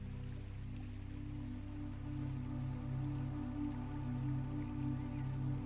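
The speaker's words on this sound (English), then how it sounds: "The rain settles softly against the glass." Soft rain falling against window glass, a steady gentle patter with a low continuous hum beneath, even and unbroken from start to finish.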